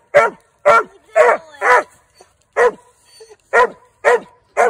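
A hound dog barks loudly and close by, eight sharp barks in uneven bursts with short quiet gaps between them.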